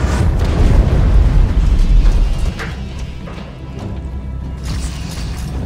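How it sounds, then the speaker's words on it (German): A spaceship explodes in the video game Dead Space 3, a loud rumbling blast with deep booms that fades into a lower, sustained roar and scattered thuds. "Das Schiff explodiert so."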